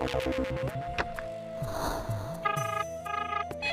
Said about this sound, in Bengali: এই মিতির গিন্নির ফোন আসছে